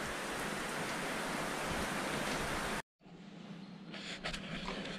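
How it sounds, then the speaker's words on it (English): Heavy rain pouring down on a farm, a dense constant hiss that cuts out briefly near the end and returns quieter with a few sharper knocks. "So it's still chucking it down with rain."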